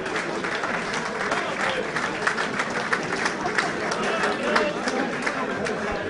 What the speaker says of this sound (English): Some appreciative applause from the, uh, the diners here at the Bristol Sporting Club.